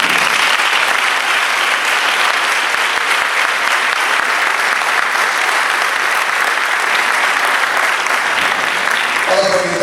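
A church congregation breaks into dense, sustained applause, a loud and even wash of many hands clapping together for several seconds.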